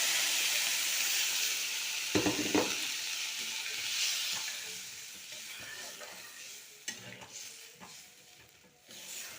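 Water poured into a hot pan of potatoes and beans for a simple rohu fish curry bursts into a loud hissing sizzle, then settles into steady bubbling with occasional clinks and stirring close by.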